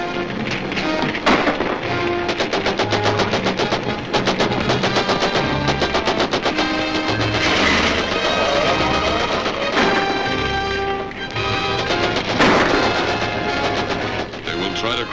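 Gunfire rattles through a 1941 movie serial soundtrack as dense, rapid bursts of shots and thuds that run almost continuously. The sound is loud and has the narrow, dated quality of old film audio.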